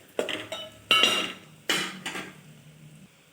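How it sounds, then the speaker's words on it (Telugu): Food being stirred in a pan while it fries, with a utensil clanking and scraping against the metal in about three distinct bursts, each fading into a soft, steady sizzle, close up with no talking. "ఇలా బాగా ఫ్రై అయ్యే వరకు కలుపుకోవాలి."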